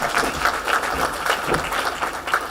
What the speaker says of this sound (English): A better round of applause, please.